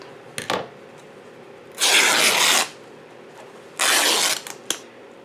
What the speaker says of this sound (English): and I'm just going to tear this.